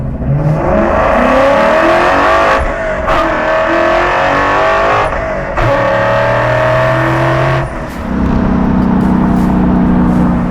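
A 1967 Shelby GT500 engine roars up through the revs, dropping briefly at each gear change three times at about 7,000 RPM, then climbing again, close and continuous with no talking.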